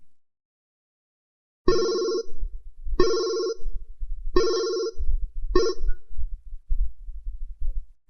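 A telephone rings four times in a steady rhythm after a silent start, clear and fairly close, with low thumping sounds between and after the rings.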